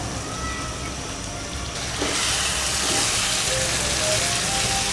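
Chopped capsicum and tomato sauté in a pan for pav bhaji, giving a steady hiss that swells into louder sizzling partway through.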